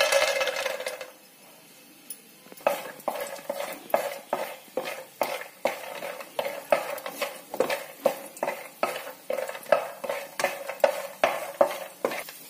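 Peanuts frying in two spoons of oil in a pan, with a steady run of sharp scraping and stirring clinks from a spoon against the metal over a light sizzle, near and fairly loud after a short quiet pause.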